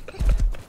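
A few quick hoof clops from a horse, close and moderately loud, in a short burst with no talking.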